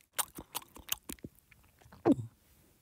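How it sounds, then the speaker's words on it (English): A dinosaur munching on leaves, heard as a run of loud, close, crunchy chewing and biting sounds in an uneven rhythm, ending in one heavier crunch, with no talking. "whilst munching on his leaves"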